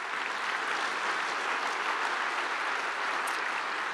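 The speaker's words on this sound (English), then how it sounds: "So please, a big round of applause for AWS" Steady, even audience applause filling a conference hall at a JavaScript developer conference's opening, sustained at moderate level without a break.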